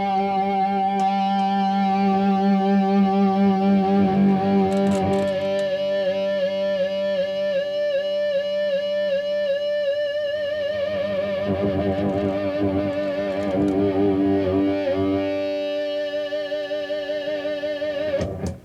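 Electric guitar through a Free The Tone GIGS BOSON overdrive pedal plays sustained chords and ringing notes, warm and moderately loud with long sustain, no talking.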